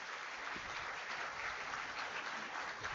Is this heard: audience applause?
yes